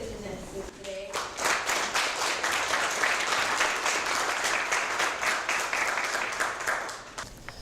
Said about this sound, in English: Let's give another round of applause for our good presenters today.